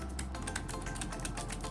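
Rapid keystrokes on a Keychron K3 mechanical keyboard, a steady run of light, close clicks with no voices.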